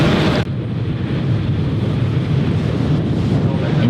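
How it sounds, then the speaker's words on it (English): An airliner inbound from Orlando touches down on runway 6 left at Cleveland Hopkins, a loud, close, continuous roar of jet engines and wind that fills the whole stretch after a brief burst at the start. "Inbound from Orlando, touching down here on runway 6 left."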